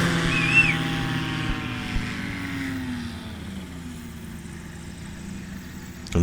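A short-takeoff-and-landing bush plane touches down at the 2025 Swamp STOL competition. Its propeller engine drones nearby, the pitch sinking and the sound fading as it settles, ending in a sudden thump.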